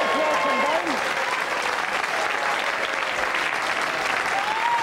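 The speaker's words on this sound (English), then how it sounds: "Give them a round of applause." Studio audience applauding on a game show set, a dense, steady wash of clapping lasting several seconds, with a few faint whistles or voices rising over it.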